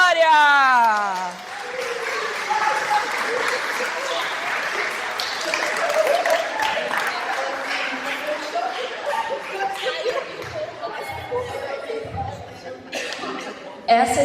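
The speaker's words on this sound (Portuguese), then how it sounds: "Aplausos para a" Applause from a children's festival audience after a storytelling workshop tale, steady clapping with dog-like yips and chuckles mixed in, voices chattering underneath throughout.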